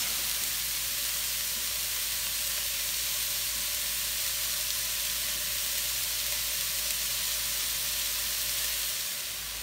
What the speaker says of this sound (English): Stir that around. Let that saute for a couple minutes.